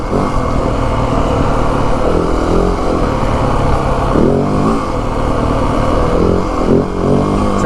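A 2025 Yamaha WR 450F dirt bike engine pulling hard in 3rd gear on a trail ride, loud and close throughout, a continuous rough roar with slight rises and dips as the throttle works.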